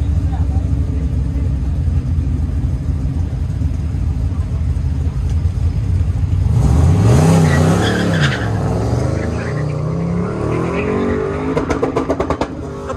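A 1974 square-body twin turbo Chevrolet Blazer on an autocross run, engine droning then revving hard as the tires squeal and skid through turns, loud and close, with an announcer talking over it.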